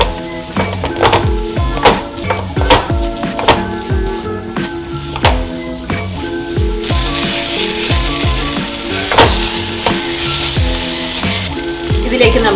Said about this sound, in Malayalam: ഇനി ഇതെല്ലാം കൂടെ നല്ല രീതിയിൽ നമുക്ക് മിക്സിങ് ചെയ്യാം.